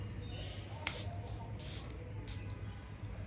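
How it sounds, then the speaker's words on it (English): Charlotte Tilbury 15 ml makeup setting spray misted in three short hissing bursts, each a sharp airy spritz close to the mic, spaced about a second apart over a low steady background hum. "now I'm gonna be using my Charlotte Tilbury 15 ml setting spray"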